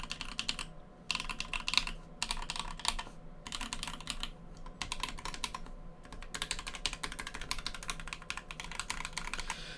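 Steady bursts of typing on a Brass Elephant S7 keyboard fitted with Cream switches, close and crisp, with short pauses between runs of clacky keystrokes and no voices.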